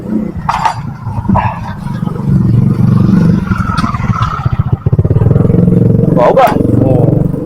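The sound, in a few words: motorcycle engine running through its exhaust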